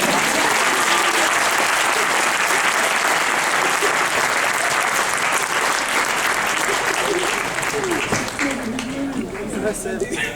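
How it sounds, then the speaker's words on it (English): An audience claps loudly at an Arizona State University graduation ceremony, a full, sustained burst of applause with crowd noise and some voices mixed in, thinning slightly toward the end. "you have to clap really loud so she can hear you"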